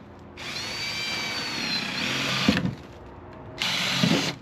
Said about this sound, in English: you need to make sure that you have some holes drilled in the top